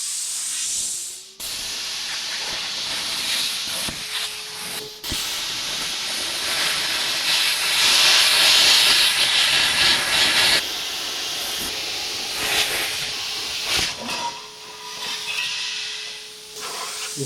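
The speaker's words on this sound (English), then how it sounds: "I got me a straight edge to run my plasma along" Plasma cutter slicing through metal along a straight-edge guide in a farm shop, a steady loud hissing roar that runs nearly continuously with brief breaks, close to the mic and with no talking.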